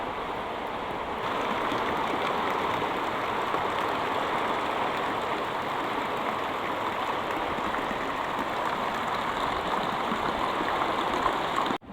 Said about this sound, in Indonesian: Angin, hujan angin kuat kieu ya Allah, ya Rob.